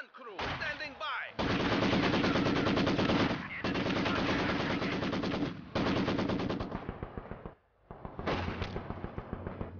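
A heavy machine gun crew fires in Company of Heroes 2, loud, rapid automatic bursts in long, near-continuous strings broken by short pauses, close and dominant with no talk.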